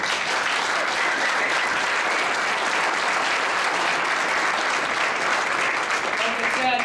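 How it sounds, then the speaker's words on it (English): Sustained audience applause fills a high-school varsity football banquet hall, a dense steady clapping that runs unbroken and evenly loud from start to finish. "So I think the boys deserve a round of applause."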